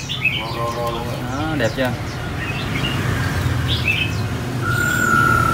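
A red-whiskered bulbul just released sings a few bright warbling phrases, clear and close, while someone talks over and between the calls.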